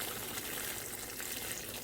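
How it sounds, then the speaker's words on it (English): Hot water pours steadily into a cooking pot, a continuous close splashing rush with no pauses. "So I'm adding the water,"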